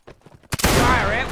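A single dense musket volley from many soldiers firing together in the video game Mount and Blade Warband, a loud sharp crack with rolling echo after a few faint preceding shots.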